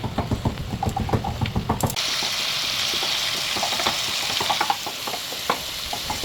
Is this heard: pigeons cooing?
no